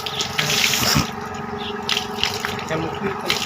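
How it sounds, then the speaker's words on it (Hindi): Water running out through a valve and pipe as an animal drinking-water pool is drained for cleaning, a steady gushing flow with splashy bursts, close by. "एक वाल्व लगा हुआ है, इसके ज़रिए पानी को निकाला जाता है।"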